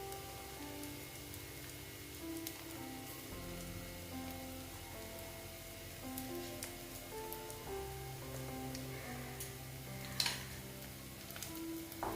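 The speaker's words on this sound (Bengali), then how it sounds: "দেখো আস্তে আস্তে আমি এইগুলোকে ভেজে নিচ্ছি" Egg pieces fry in a pan with a steady, soft crackling sizzle, faint beneath background music, with a brief louder sputter near the end.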